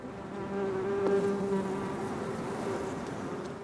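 Honeybees at city hives in Paris make a steady, dense buzz of many wings. The drone holds at an even loudness and is close, with no talk.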